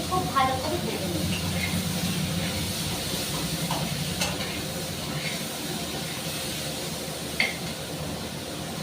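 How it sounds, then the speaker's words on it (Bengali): Potato and flat beans frying in a pan give a steady hiss and sizzle that runs throughout at even loudness, with a few brief clinks and stirring scrapes. "আলুটা শিমটাকে খুব ভালো করে ভেজে নেব"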